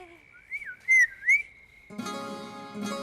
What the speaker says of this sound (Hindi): शर्म नहीं आती अपनी मम्मी को सीटी मारते हुए?